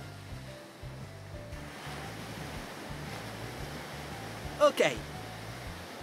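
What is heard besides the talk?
ocean waves breaking on the beach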